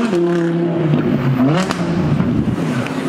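A Porsche 918 Spyder drives past on a street at a seaside resort, its engine tone rising and falling through a short pass, fairly loud and near with a whooshing pitch sweep.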